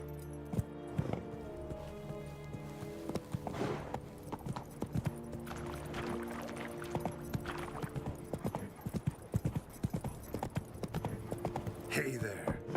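Hooves of Roach, a horse in The Witcher 3: Wild Hunt, clip-clop in a steady rhythm, close and clear, alongside game music and occasional speech.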